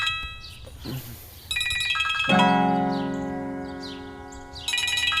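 An electronic phone ringtone plays loudly, a sustained tonal melody with bright harmonic notes that swells and lingers, preceded by softer chiming tones.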